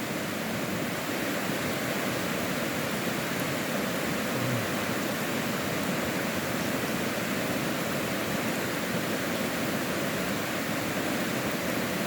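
A river at Jambavade village rushes steadily, a loud, dense and unbroken roar of flowing water with no voices.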